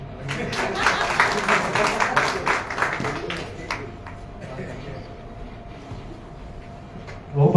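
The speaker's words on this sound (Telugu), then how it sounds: "మళ్ళీ చప్పట్లు కొట్టచ్చు." An audience applauds inside an auditorium at a Telugu short-film preview screening, with dense clapping for about four seconds that then thins into a low murmur. A voice cuts in near the end.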